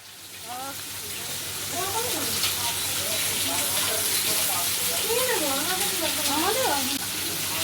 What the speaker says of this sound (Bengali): এখানে কাতলা মাছ ভাজা হচ্ছে, আর এদিকে পটল চিংড়ির জন্য পটল ভাজা হচ্ছে।